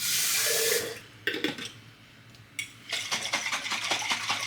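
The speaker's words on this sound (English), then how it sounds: "I'm actually gonna swirl a little bit of water in here." Water swirled around inside an Instant Pot insert, a brief splashing wash followed by a quiet pause, then a second, longer stretch of sloshing and clinking close by.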